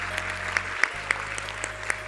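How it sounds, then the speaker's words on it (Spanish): A small audience gives scattered, fairly sparse clapping for a speaker being introduced at a conference, with individual claps distinct over a low hum. "un aplauso aquí para Chris"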